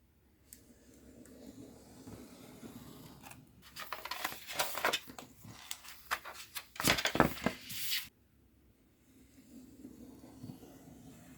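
Vinyl material being cut by hand with scissors just inside marked lines, a run of close, crisp snips and rustles in the middle of the stretch, with quieter handling before and after.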